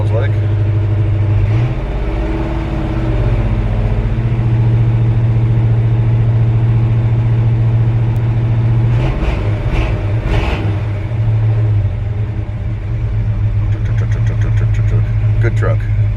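A 1963 truck's V8 idles in a deep, steady rumble close by, revs up briefly near the middle and settles back to a smooth idle, with speech over it.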